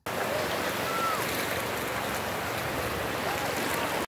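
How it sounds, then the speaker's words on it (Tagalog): Sea water splashes and washes steadily near the shore, a constant close hiss of small waves with a faint voice or two underneath. "Ang sarap talaga pakinggan ng hampas ng tubig, no?"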